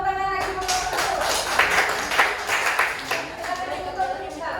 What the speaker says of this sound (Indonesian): tepuk tangan lagi buat kelompok satu